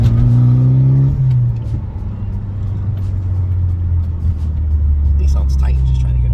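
Subaru Sambar kei truck engine running steadily, a low droning rumble that drops in pitch after a brief rev, with faint background noise throughout.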